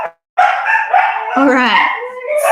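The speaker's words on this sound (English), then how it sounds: "we've got my dogs talking with us as well" Several pet dogs howl and yip together in a long, wavering, close chorus, loud and rising in pitch, right after a person speaks briefly.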